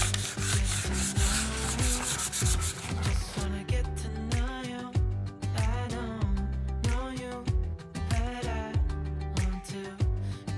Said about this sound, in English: I'm just going to distress the transfer a little bit